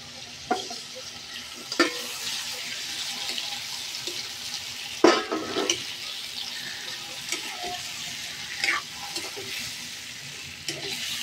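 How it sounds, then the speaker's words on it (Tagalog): Shrimp fry in a pan with pork belly and fish sauce, a soft continuous sizzle broken by sharp scrapes and clacks of stirring, close and fairly quiet with no talking. "Then atong i-add ang atuang shrimp."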